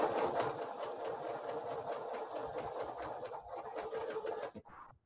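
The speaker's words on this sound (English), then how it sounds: "And doing a reverse stitch." A sewing machine running a reverse stitch on a fabric face mask, a steady close rapid needle whir with rhythmic clatter that slows and stops near the end, no talking.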